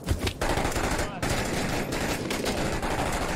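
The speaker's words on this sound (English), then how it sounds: "I'm not sure what he was shooting at there, but it looked like he was shooting behind the building" Gunfire in the video game Six Days in Fallujah: loud, dense automatic bursts rattle almost continuously, broken by a brief gap, with a voice partly under the shots.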